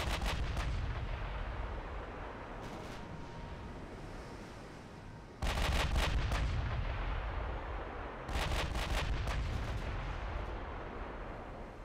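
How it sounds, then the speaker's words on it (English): Naval guns fire again and again in a video game battle, heavy booming salvos crashing in bursts over a constant roar, with the biggest volleys landing near the middle and later in the sequence. "Guns are blazing."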